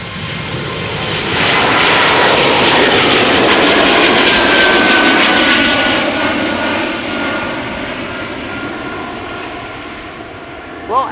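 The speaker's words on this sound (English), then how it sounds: "E2 Embraer KLM Flight 1545 on its way to Malaga" A KLM Embraer E2 jet on its takeoff roll and climb-out from Amsterdam Schiphol toward Malaga roars up loud and close, peaks for several seconds, then gradually fades into a lingering distant rumble.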